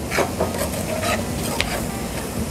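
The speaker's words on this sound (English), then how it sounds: "We're going to deglaze the pan. It's basically scraping up all the delicious crispy bits at the bottom." Red wine deglazing a hot pan as crispy browned bits are scraped from the bottom for a rustic tomato sauce, heard as a steady close sizzle with scraping and stirring strokes, no talking.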